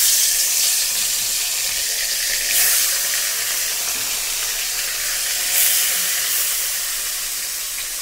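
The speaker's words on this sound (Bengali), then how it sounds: "তেল গরম হয়ে গেছে, এবার মাছ দিয়ে দেবো।" Fish sizzles and hisses steadily in hot oil in a home kitchen, with a broad frying crackle that swells briefly twice.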